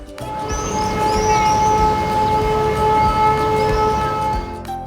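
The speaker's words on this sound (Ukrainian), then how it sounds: "На жаль, у проведення олімпійського дня втрутилася повітряна тривога." An air raid siren sounds during an outdoor children's sports day, a sustained wailing tone with steady harmonics that holds across the whole stretch, accompanied by faint rising chirps and background hum, with no speech.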